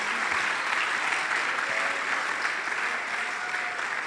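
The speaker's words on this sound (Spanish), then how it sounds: "Démosle un aplauso a ese Dios maravilloso." A church congregation claps steadily during a Spanish-language sermon, a dense even wash of hands with no break and no voices on top.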